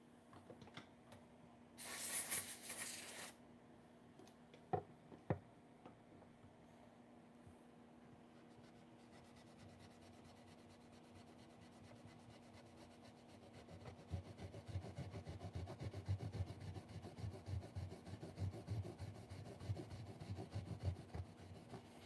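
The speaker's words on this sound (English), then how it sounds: "This is just some very good quality 4/0 steel wool that I use to clean the ebony up here." Fine 4/0 steel wool rubs across ebony. The rubbing is faint, a soft scratchy texture that grows into steadier back-and-forth strokes later on, with a low hum and a brief hiss near the start.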